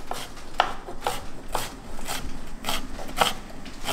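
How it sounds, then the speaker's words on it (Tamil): Onions being sliced with a knife on a board while preparing vegetable brinji: a run of crisp, evenly spaced cutting taps close by, with no one talking. "வெங்காயமும் ஸ்லைஸ் பண்ணிட்டு"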